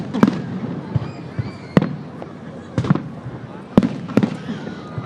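Fireworks at the Derry Halloween parade boom and crackle in a string of sharp bursts, some close and loud, others fainter, over a murmuring crowd.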